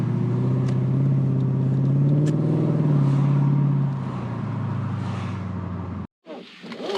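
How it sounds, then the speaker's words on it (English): A V8 Infiniti Q45 fitted with a new cold air intake accelerates, engine rumbling and climbing in pitch for a few seconds before easing off, then a brief dropout and a quieter trailing roar. "From like mid throttle to full throttle, it definitely pulls harder."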